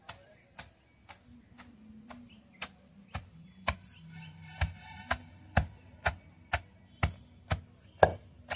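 Gongura leaves and red chillies being pounded for pickle: a steady series of about fifteen sharp, evenly spaced thuds, close and fairly loud, with no one talking.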